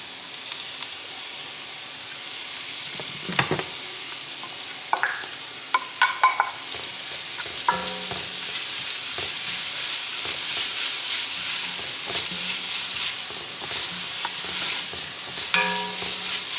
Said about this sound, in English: now I have some butter melting in here. And I am going to add these veggies that we shredded up earlier.